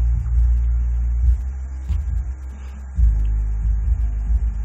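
A home-built DSP speaker rig with only the subwoofer playing at volume 30, giving a deep booming throb of bass thuds that swell and pulse steadily, loud and low, with no talking.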